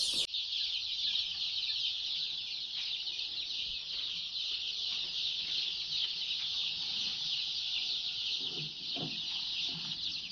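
Chickens and young chicks on a small Thai poultry-rearing farm cluck and chirp continuously, a dense steady flock chorus close by with a few louder calls near the end; no one speaks.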